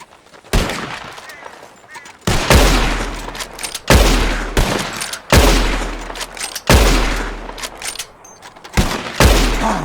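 Gunfire in Red Dead Redemption 2 as shooters aim at birds flying overhead: six or so loud, sharp shots spaced a second or two apart, each trailing off in a long echoing decay.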